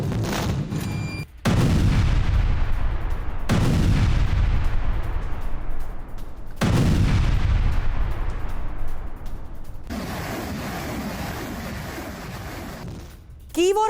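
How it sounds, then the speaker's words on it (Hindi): Rocket artillery bombardment from an MLRS in eastern Ukraine: three loud booming blasts about three seconds apart, each decaying into a long rumble, then a rougher, continuous rumbling stretch, with a further burst at the very end. "ये MLRS से पूर्वी यूक्रेन पर किया गया अटैक है।"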